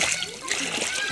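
Water splashes and churns continuously as someone bathes in a village river, loud and close, with voices, including a child's, talking over the splashing.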